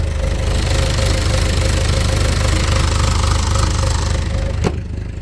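A small engine runs steadily with a loud, continuous knocking throb, then cuts off abruptly near the end, leaving a quieter rumble.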